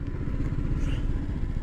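A motorcycle engine on a tour through Iran, a steady, loud, close rumble with a low throbbing pulse and no voices, heard while riding toward a roadside rest area.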